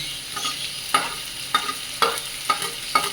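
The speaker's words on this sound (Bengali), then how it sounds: "সব কিছু দিয়ে আমি আরেকটু হালকা করে ভেজে নেবো" Onion, garlic and green chilli fry in a pan with a steady hiss of oil, punctuated by regular spatula taps and scrapes roughly every half second, close and clear without speech.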